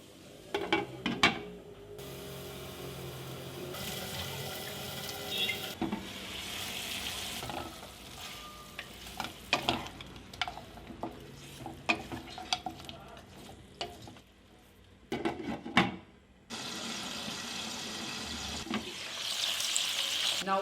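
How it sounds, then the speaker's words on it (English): Smoked pork pieces fry in a pan for a Naga-style dish, with steady sizzling broken by scraping stirs and clinks of a utensil against the pan, surging loud in several stretches and settling quieter between them. "In the same pan, add your pork pieces, stir, cover and cook it on a low flame for 20 minutes."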